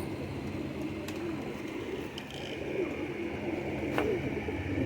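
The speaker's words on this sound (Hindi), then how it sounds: "ये ओरिजिनल डब वाले कबूतर हैं" Dab breed pigeons coo softly in the background amid a low, steady ambient hum in Karachi, with a few faint sharp clicks.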